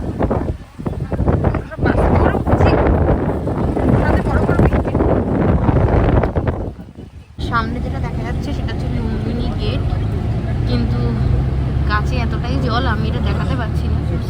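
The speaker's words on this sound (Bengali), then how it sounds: "এই বৃষ্টিও শুরু হয়ে গেছে প্রচন্ড জোরে হাওয়া" Strong wind buffets the microphone outdoors in rain on the road from Pokhara to Lumbini in Nepal, a loud roaring, gusting rush for the first seven seconds, then a steadier, duller wash of noise with voices talking underneath.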